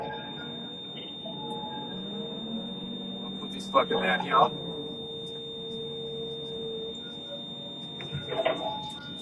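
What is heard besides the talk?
excavator warning buzzer sounding in the cab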